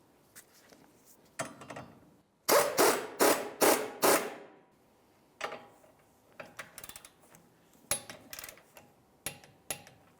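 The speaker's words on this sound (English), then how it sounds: "We'll grab our nut, start it right on here, a couple good threads. Now we can tighten this up." A ratchet tightening the trailing arm nut on a 2000-2005 Buick LeSabre, heard as close, sharp bursts of clicking separated by short pauses.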